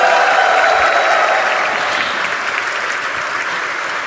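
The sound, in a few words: audience applause at stock exchange listing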